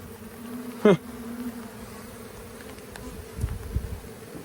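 A steady hum of buzzing bees being removed from a section of power pole in the rain, with a louder close buzz passing briefly near the start and some low rumbling later.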